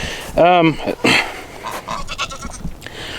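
Goats on a farm where livestock guardian dogs are kept give a clear, wavering bleat up close, followed by a shorter call and scattered quieter animal sounds.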